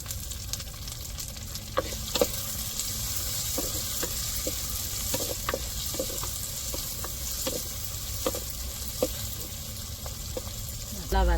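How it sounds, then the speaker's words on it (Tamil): Onions sautéing with salt in a pan, with a steady broadband sizzle throughout and repeated clicks and scrapes of a spoon stirring, close and fairly loud, with no talking. "நல்லா வதங்கிருச்சு."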